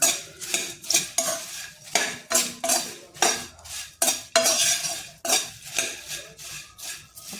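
Puffed rice chivda is tossed and stirred in a metal pan, a quick rhythmic series of spoon scrapes and clanks against the pan with soft rustling of the dry flakes, close and fairly loud.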